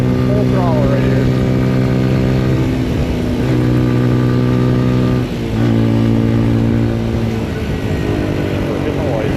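A Papio SS mini-moto runs at full throttle, its small engine holding a loud, buzzy, steady tone with slight dips and rises in pitch as it rides along, while someone talks over it.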